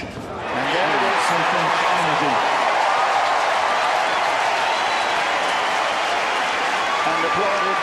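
A tennis crowd breaks into applause after a player wins the set, a sustained wash of clapping that swells in within the first second and holds steady, with a commentator's voice over it.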